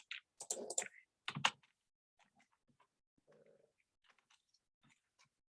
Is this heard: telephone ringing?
no